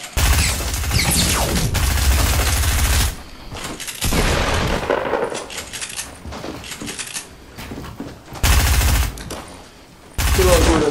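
Fortnite Season 7 solo squads gunfire, with SMG and other weapons firing in loud rapid bursts that break off and resume, over game sounds.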